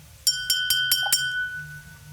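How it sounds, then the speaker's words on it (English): Several quick bright clinks from tapping on a water bottle, about five taps in a loose rhythm, close and fairly loud over a quiet background. "Like the tinking of the water bottle"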